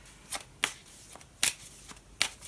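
Tarot cards are shuffled and pulled in a quiet room, giving a handful of crisp, separate riffling bursts spaced unevenly, close and fairly soft.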